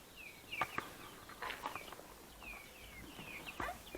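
Soft clucking from a hen mixes with thin, high peeping of chicks, scattered calls over a quiet background.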